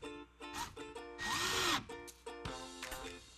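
A power drill drives screws to fasten a pipe flange to a wooden board, with several short whirring bursts and one longer one, close up and without talk.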